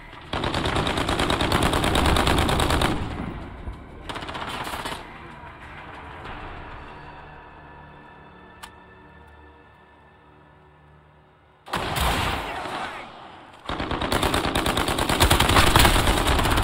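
Bursts of automatic gunfire from the video game Call of Duty Modern Warfare, loud rattling volleys at the start and again near the end, with a quieter stretch of softer game sounds between them.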